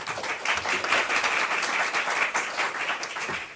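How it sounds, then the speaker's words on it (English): A graduation audience applauds an orchestra's string quartet, a steady wash of many hands clapping throughout, fairly loud and even with no voices standing out. "Let's give them a round of applause."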